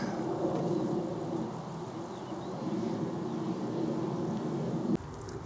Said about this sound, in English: as you can hear in the background now, another jet